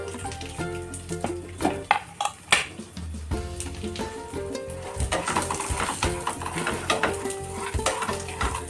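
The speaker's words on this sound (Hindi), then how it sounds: "काजू, बादाम, अखरोट को हमने एक साथ डाल दिया है" Cashews, almonds and walnuts roast in a kadhai, stirred with a spoon that scrapes and clinks against the metal over a soft, steady sizzle, close and moderately loud.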